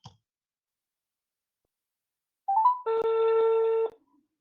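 A short rising electronic tone is followed by a steady telephone ring tone lasting about a second, in otherwise silent surroundings.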